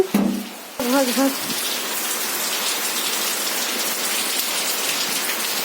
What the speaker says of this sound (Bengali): এখন বৃষ্টি হচ্ছে, দেখছো প্রচণ্ড জোরে বৃষ্টি হচ্ছে, অনেক বৃষ্টি।